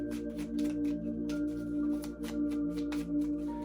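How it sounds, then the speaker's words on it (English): Tarot cards shuffled in repeated soft riffling bursts throughout, over a steady tonal music bed. "I'm gonna keep shuffling. Keep shuffling until one pops out"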